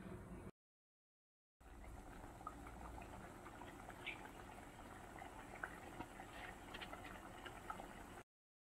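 Pudina chutney paste bubbles in a pan, quiet steady popping and gurgling with small irregular bursts, close and faint, broken by a brief silent gap near the start.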